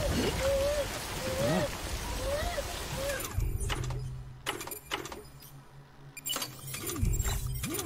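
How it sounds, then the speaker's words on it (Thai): Rain falling in the horror game Dead by Daylight: a steady, fairly loud hiss of rainfall that thins out partway through, with a voice talking over it. "ฝนมาตกฝนตกก่อน"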